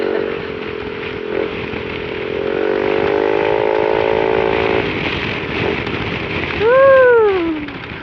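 A Yamaha NMAX scooter on a ride to the beach, its engine droning steadily with rising and falling pitch as it accelerates, with wind and road noise and a brief horn-like tone near the end.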